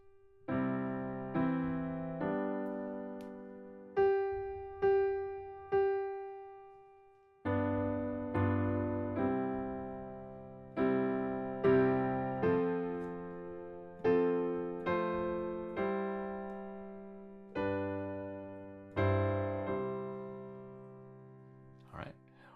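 Solo piano plays the chorus of the hymn It Is Well With My Soul straight from the hymnal, full block chords struck in steady phrases that each ring and fade, close, clean and without voices.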